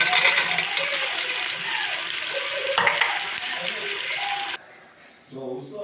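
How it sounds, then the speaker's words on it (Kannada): Raw green peas tumble into a hot pan for tomato bath, a close rattling, sizzling fry with stirring that stops abruptly near the end, followed by a brief voice. "ಇವಾಗ ಹಸಿ ಬಟಾಣಿನ ಆ್ಯಡ್ ಮಾಡ್ತಾಯಿದ್ದೀನಿ."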